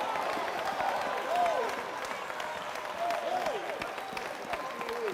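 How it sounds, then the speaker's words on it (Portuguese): A church congregation applauds steadily throughout, a dense wash of clapping with some voices faintly mixed in, sounding fairly near and sustained. "dê um grande aplauso para ele"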